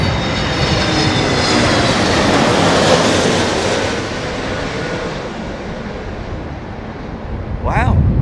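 Airbus A320neo passing low at London Heathrow, trailing wingtip vortices: a loud, broad jet roar that swells, eases and then rumbles on, with a rising whooshing swirl toward the end.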